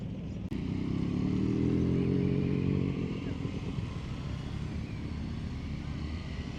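Motorcycles arriving for a biker parade at the Moscow season opening rumble and rev nearby, a loud engine burst fading into a blended background drone of bikes, with someone talking over it.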